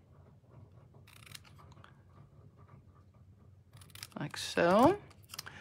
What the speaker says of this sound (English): So I'm going to first cut one end off, snip my banner end in,